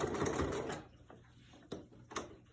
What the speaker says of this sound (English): And now I'm gonna just reverse stitch.